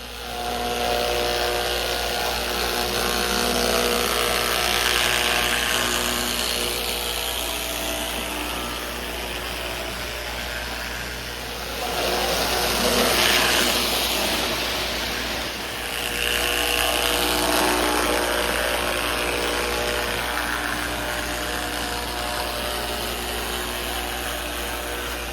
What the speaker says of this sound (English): Let's see what Scout engines I have and which one's the best runner.